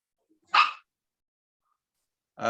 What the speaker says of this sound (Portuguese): o cachorro latiu aqui